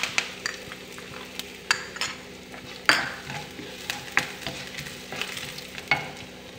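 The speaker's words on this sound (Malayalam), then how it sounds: "ഇതിലേക്ക് കറിവേപ്പില മുളക് ചേർക്കാം. ഇതിലേക്ക് ചില്ലി ഫ്ലേക്സ് ചേർത്ത് കൊടുക്കുന്നുണ്ട്." Mustard seeds, curry leaves and chili fry in coconut oil. Sharp popping crackles burst at irregular intervals over a low sizzle, and a utensil clinks against the pan.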